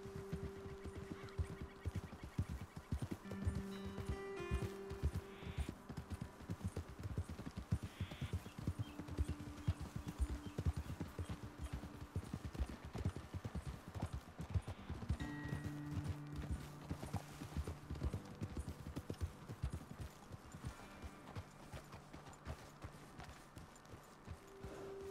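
Horse hooves clip-clopping during a ride in Red Dead Redemption 2, a steady quiet rhythmic trot with faint ambient tones and distant bird honks in the background.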